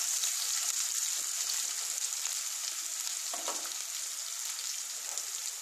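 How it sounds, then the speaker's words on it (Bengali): Onions fry in oil tempered with black cumin seeds, a soft, even sizzle running throughout with a brief clink of a utensil midway, no voices. "পেঁয়াজটা বেশ একটু লাল লাল করে ভেজে নেব"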